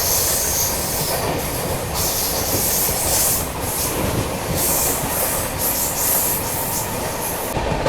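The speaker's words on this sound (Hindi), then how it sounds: "WDG3 है, एल्को डीजल।" A train hauled by a WDG3 Alco diesel locomotive rolls past near a road bridge, with steady loud rumble, repeated wheel squeals and rhythmic rail clatter running continuously throughout.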